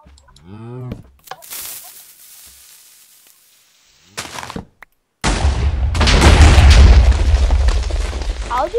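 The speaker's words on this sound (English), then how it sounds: "How did I not die of the TNT?" A Minecraft TNT explosion, loud and close, bursting into a long rumbling blast that fills the end of the clip after shouts and a brief pause.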